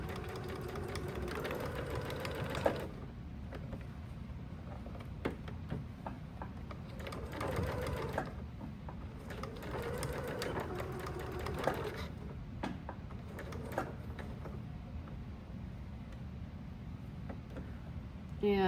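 A sewing machine stitches a messenger bag seam at a half-inch seam allowance, running in rapid rattling bursts of a few seconds each, separated by quiet pauses, heard close but at low volume.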